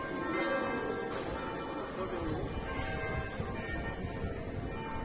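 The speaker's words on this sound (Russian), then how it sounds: "Вот, бьют часы на старой башне. Провожают день вчерашний. И звонят колокола." Church bells and a clock striking on an old tower in Toulon, France, ring out with steady, moderately distant tones amid background voices and street ambience.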